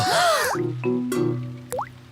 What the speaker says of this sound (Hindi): डैडी पिग बूंदें इकट्ठा करने के लिए बाल्टी का इस्तेमाल कर रहे हैं।